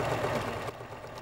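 A Pfaff sewing machine runs briefly while stitching a wide satin column, a soft mechanical whirring and clatter that drops in level partway through as it slows.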